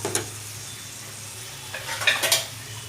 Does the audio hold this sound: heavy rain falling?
no